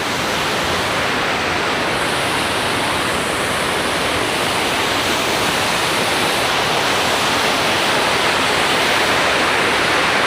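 Pulsena Falls pours over an irrigation dam in Cavite, a loud, dense, unbroken roar of falling water that stays steady throughout with no voices.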